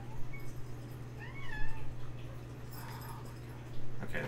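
A pet cat meows a few times in a room during a live 3D sculpting session, the rising calls fairly close over a steady low hum, with faint background noise and no clear talk.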